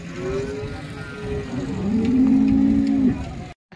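A cow at a busy cattle market gives one long, loud moo that rises and holds steady before cutting off abruptly, with crowd noise in the background.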